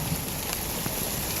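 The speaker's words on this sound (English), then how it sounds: "We got some rain, boys and girls." Heavy rain during a West Texas hail storm, a constant dense hiss of pouring water with occasional faint taps, moderately loud and steady, with no one speaking.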